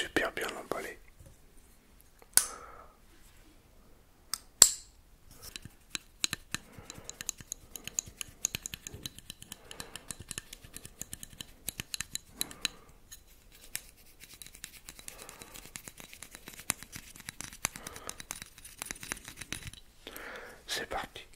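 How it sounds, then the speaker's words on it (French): A knife scrapes and slices through tightly wrapped parcel packaging in a quiet room, producing faint, close crackles, taps and rustles in irregular bursts, with soft whispering at times. "On va prendre le couteau parce que c'est super bien emballé."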